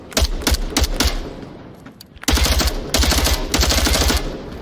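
Rapid automatic gunfire in a VR shooter game, loud close bursts of fast rhythmic shots with a brief lull before a sustained second volley, no talking.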